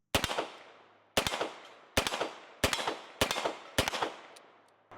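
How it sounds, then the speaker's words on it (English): A Korth Ranger revolver is fired double action with one hand in six evenly spaced sharp shots, each loud crack followed by a short ringing decay, at an outdoor range. "Let's go ahead and load it back up and fire some more. Do some double action one-handed."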